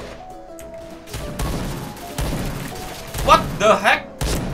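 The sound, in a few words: gunfire in a video game, Point Blank shooter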